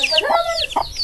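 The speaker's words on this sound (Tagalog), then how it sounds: "Aba, ganda ng manok na yan ah." A Texas-breed chicken clucks near a rural Philippine home, giving two or three short close clucks mixed with higher chirping calls.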